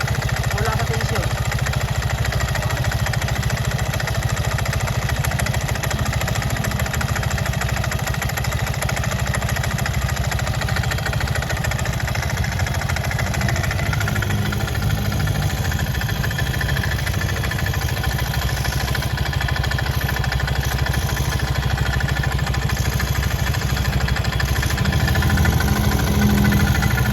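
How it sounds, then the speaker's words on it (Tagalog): A Yamaha Aerox scooter engine, just reassembled after crankshaft work, idles with a steady, loud, buzzing drone and constant vibration, close by and unbroken throughout. "umandar na ang Aerox"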